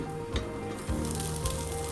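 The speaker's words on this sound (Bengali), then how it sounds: "এরপর কড়াইতে আরেকটু তেল দিয়ে আমি ফুলকপি আর আলুগুলো ভেজে নেব।" Cauliflower florets and potato pieces sizzle steadily in oil in a wok. A few soft knocks of stirring break through the continuous frying hiss.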